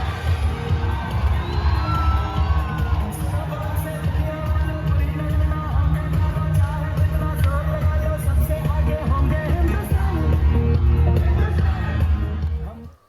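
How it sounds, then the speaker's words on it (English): A large dancing crowd at the Wagah Border ceremony sings patriotic songs over loud music, a dense continuous wall of cheering, shouting and singing voices with amplified melody running steadily throughout. "You are greeted by a dancing crowd singing patriotic"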